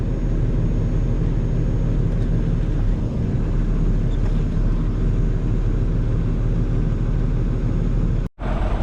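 Grain auger unloading feed into pig feeders from a tractor-pulled cart, a loud, steady mechanical drone and rumble running throughout, with a brief dropout near the end.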